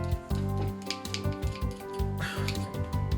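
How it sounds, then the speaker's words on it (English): Repeated crisp snipping of scissors, several quick cuts in an irregular rhythm, close and fairly clear with a faint low hum behind. "I'll just use their cheap scissors."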